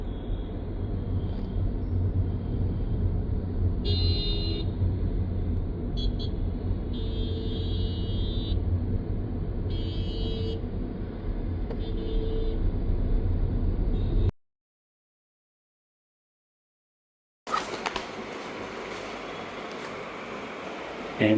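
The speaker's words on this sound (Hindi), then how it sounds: "मेरे साथ साथ आप भी दिल्ली का ट्रैफिक एंजॉय करो, बहुत ट्रैफिक है यहाँ पे।" Delhi street traffic near a market, a steady loud rumble of engines with several short horn honks in the first part, then a brief silence before noisy traffic resumes.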